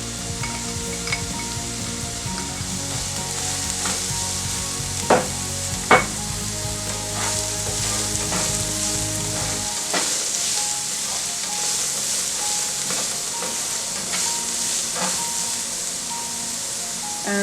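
Chopped green onions fry in a pan with a loud, continuous sizzle and hiss, joined by a few sharp stirring clicks and faint tonal sounds in the background.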